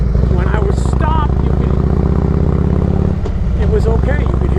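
Harley-Davidson Road King engine idles with a close, steady low throb while stopped in cold weather, a rider talking over it.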